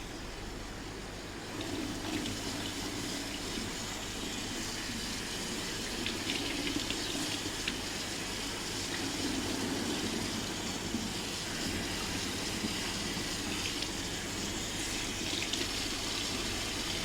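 Tap water runs steadily over pumpkin pieces being rinsed in a sink, a continuous close rush that carries on the whole time with no talking.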